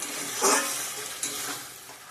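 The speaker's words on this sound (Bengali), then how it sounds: "ভালো করে কষিয়ে নেবেন মশলাগুলো অ্যাড করে দিয়ে ভালো করে কষিয়ে নেব" Spices for an egg omelette curry sauté and sizzle in a pan, a steady close hiss with a couple of brief stirring scrapes.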